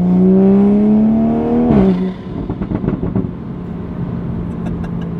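A Toyota Supra A90 accelerates hard with its engine note climbing loudly, then a quick gear shift drops the pitch before the car pulls on again at a steadier, rougher drone.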